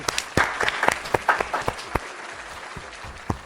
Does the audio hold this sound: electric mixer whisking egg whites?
no